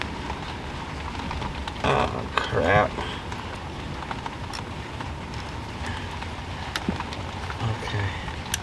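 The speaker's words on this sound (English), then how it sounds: "we're getting rained on pretty good" Rain falls steadily outdoors around a Buick project car with an LS engine swap, a soft continuous patter under the scene, with someone briefly talking and some clattering handling sounds.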